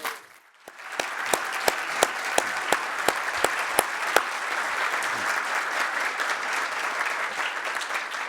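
Audience applause welcoming Brad Davy and his family: a burst of steady clapping from a crowd that swells quickly and holds, with a few sharp individual claps standing out near the start.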